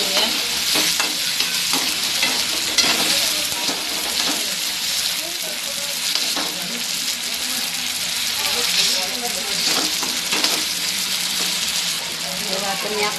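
Onion and tomato cook in a pan with steady frying and sizzling and intermittent scraping stirs of a spoon, close and continuous throughout, with faint speech now and then underneath.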